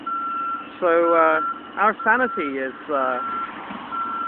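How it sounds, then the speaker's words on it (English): Reversing alarm on a city work truck on Harvard Street in Cambridge, Massachusetts, a steady high-pitched beep repeating through the whole stretch while someone talks over it nearby. "making a beeping sound is apparently totally acceptable all day"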